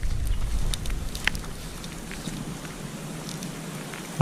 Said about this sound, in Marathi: थेंब थेंब वाटतं पाऊस गळतो आहे